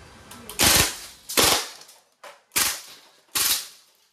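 A CO2-powered blowback airgun rifle fires full-auto bursts, four loud, close clusters of rapid snapping shots separated by short pauses, with no talking.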